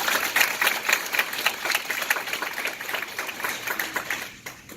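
Applause from an audience at a Herbalife coaching lecture, a steady dense patter of many hands clapping for several seconds that thins out toward the end, with no talking over it.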